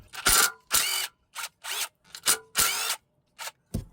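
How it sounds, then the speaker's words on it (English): A DeWalt impact driver with a 10mm socket backs out oil pan bolts on a 2006–2010 Volkswagen Jetta, Golf or Rabbit, firing in short loud hammering bursts, about seven separate rattling spurts with brief pauses between them. "I'm gonna run this DeWalt impact driver, and I'm gonna use a 10mm socket from my Work Pro set."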